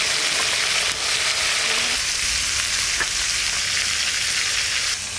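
Pieces of a large river-caught rithe fish sizzle in hot oil in a frying pan, a close, continuous crackling hiss with no voices over it.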